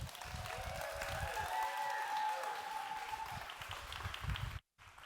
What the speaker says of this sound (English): Round of applause for the lovely Sarah Rowan, ladies and gentlemen